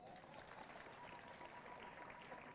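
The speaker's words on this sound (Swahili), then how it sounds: "tupigie mheshimiwa Makali makofi" A crowd at a political rally in Kitui, Kenya claps in a steady, dense patter of applause, sustained and fairly distant, without a clear break.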